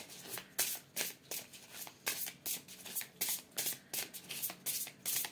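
Oracle cards shuffled by hand in quick, regular riffling bursts, about two per second, close and crisp with brief pauses between them.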